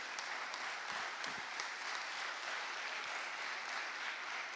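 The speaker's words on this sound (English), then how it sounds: "let's give all of our presenters a hand" An audience at a voter canvassing event claps for the presenters, producing steady, moderately distant applause that fills the room evenly from start to finish, with no talk over it.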